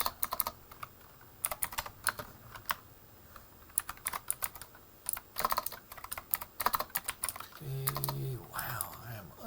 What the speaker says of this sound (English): I am unable to type right now